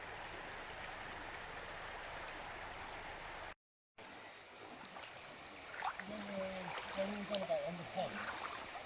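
River water flows and trickles steadily around a person wading, with splashing and sloshing movement picking up in the second half after a brief dropout.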